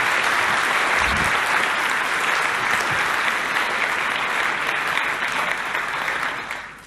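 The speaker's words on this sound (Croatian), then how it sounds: "Molim vas, jedan najveći aplauz za doktora Roberta Kopala!" A conference audience gives a keynote speaker a long, loud, continuous round of applause, many hands clapping in a dense even roar that tapers slightly at the very end.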